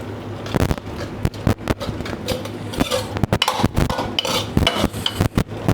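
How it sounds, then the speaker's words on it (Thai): A metal utensil scrapes and clatters steadily against a pan while red curry paste is dry-roasted for a Thai coconut curry with pickled bamboo shoots, giving close, uneven knocks and stirring scrapes throughout. "การคั่ว"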